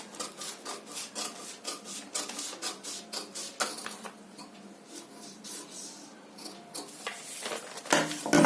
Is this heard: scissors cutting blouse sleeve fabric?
yes